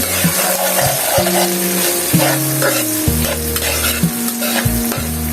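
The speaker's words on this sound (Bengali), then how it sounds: "মাছের ডিমটা দিয়ে দিলাম তারপরে কিছুক্ষণ নাড়াচাড়া করে" Fish roe frying in a pan with turmeric, stirred with a metal utensil: a loud, steady sizzle under repeated scraping strokes against the pan, no talking.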